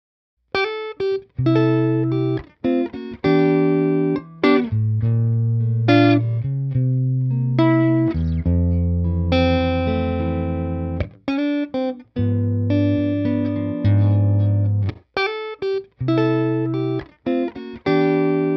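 A Fender Princeton '68 amp voices electric guitar tones recorded straight through a Universal Audio box, with ringing chords and picked notes played alone, loud and sustained with short gaps between phrases.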